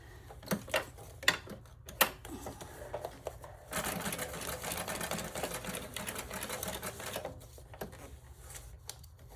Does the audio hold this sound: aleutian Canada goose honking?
no